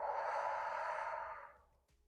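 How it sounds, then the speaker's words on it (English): A long, close exhale during a yoga flow on a mat, a breathy airy sigh that fades out toward the end. "Breathing."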